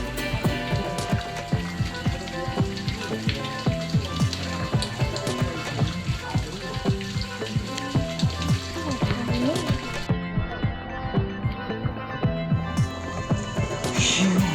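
Rain falls steadily outside a cave near Bueng Khong Long, a dense patter of drops hitting surfaces that carries on evenly throughout, fairly close and moderately loud.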